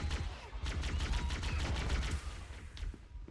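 Fuel rod gun in Halo: Combat Evolved fired without a break, a rapid run of punchy shots, one after another, at moderate loudness with no pause.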